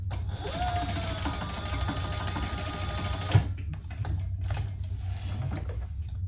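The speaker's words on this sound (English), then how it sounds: "And sew that together." A sewing machine runs steadily stitching a fabric seam on a travel organizer, a continuous close mechanical whir for about three seconds that then stops, leaving quieter handling noises.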